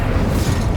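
A spell burst in the Hogwarts video game, the Incendio fire spell, gives a dense, sustained whooshing roar of flame with a low rumbling body, loud and steady for under a second.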